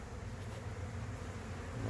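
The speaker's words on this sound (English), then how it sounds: "There's still some bees here thinking they're gonna leave too, probably" A honey bee swarm just thrown off its spot outdoors, with stray bees still flying: a low, steady buzzing hum continues throughout, faint and even with no talking.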